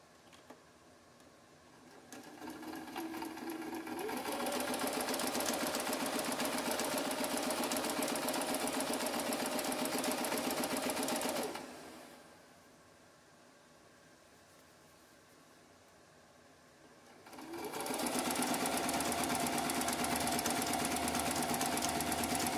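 A sewing machine runs a straight seam on a corset mockup, whirring steadily and fairly loudly in two long bursts separated by a quiet pause, with no speech.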